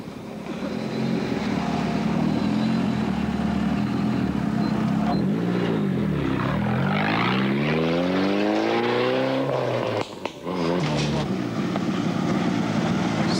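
Rally car competing in the 1998 Petronas Malaysian Rally Championship round in Selangor, its engine running rough, loud and continuous with sweeping revs rising and falling, a brief dropout near the end, with a commentator talking over it.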